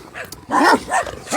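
An angry-looking dog barks loudly and close by, three or four sharp, harsh barks following one another in quick succession with no talking over them.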